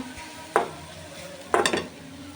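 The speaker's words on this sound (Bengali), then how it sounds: "এখানে আমি পেঁয়াজ রসুন কাঁচামরিচ দিয়ে দিয়েছি একটু গরম হওয়ার জন্য" Onion, garlic and green chili frying in a pan, with two sharp stirring scrapes of a utensil against the pan over a faint steady sizzle.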